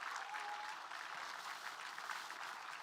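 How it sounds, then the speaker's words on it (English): Distant, faint applause from a school event audience cheering students, a soft continuous wash of many hands clapping with no break. "Let us give our incredible students a huge round of applause for making this event so joyous and memorable."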